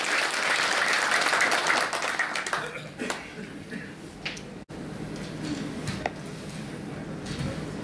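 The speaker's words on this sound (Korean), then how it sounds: "큰 박수로 환영해주시기 바랍니다." Warm applause from a seated audience welcomes the new 14th-term association president at an inauguration ceremony, loud and dense for a few seconds before thinning into scattered claps and quiet room noise.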